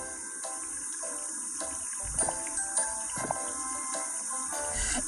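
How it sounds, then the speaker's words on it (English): Hands are washed under a running tap, a steady close stream of water with small splashes and clinks, the flow continuing throughout with no talk. "wash your hands a lot, especially after you blow your nose. That's what I'm going to do now."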